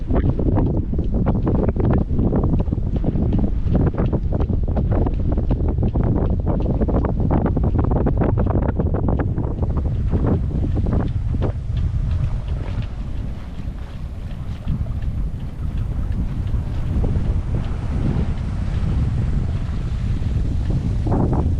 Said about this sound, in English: We're night sailing right now